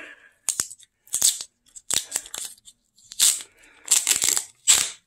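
A sticker being peeled up from a 12-volt battery in a 2007-2011 Toyota Camry Hybrid, heard as a series of crisp tearing and crackling bursts with short silent gaps between them.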